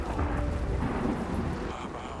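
Steady rain with a low thunder rumble in the video game Yes, Your Grace, a dense hiss of downpour over a deep rolling undertone, continuous and moderately loud.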